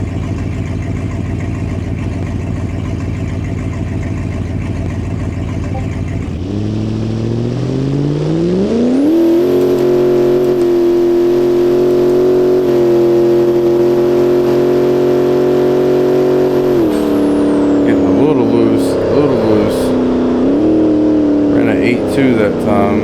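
A Dodge Dakota R/T truck idles at the line, then its engine revs hard and climbs steadily through the gears as it launches down a drag strip, loud and sustained, with a high whine and some shifting near the end.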